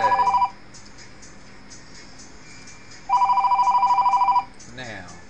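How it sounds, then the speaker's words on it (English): An incoming-call phone ringtone: a loud, rapidly pulsing electronic trill in two bursts, a short one at the start and a longer one a few seconds later, with a quieter chirp at the end. "I'm getting a phone call."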